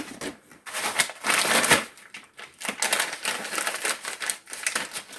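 A bag of frozen cut okra being handled, with loud crinkling plastic and the hard frozen pieces crunching and shifting inside, in irregular rustling bursts up close.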